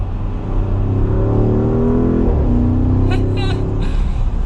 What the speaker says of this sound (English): I mean, you can hear that exhaust.